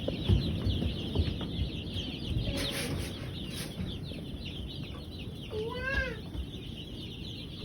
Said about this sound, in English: These are Cornish cross broiler chickens.